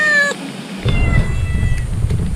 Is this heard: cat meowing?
yes